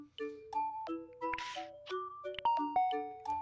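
Doorbell-style ding-dong jingle from the Tomodachi Life video game: a bright, melodic sequence of chiming tones that steps up and down, with a brief burst of noise in the middle. It plays alone, with no voices.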